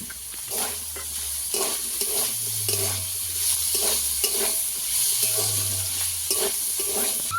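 Ginger paste and small-chopped tomatoes frying in a pan, a close sizzle broken by regular scraping stirs every second or so, with no talk.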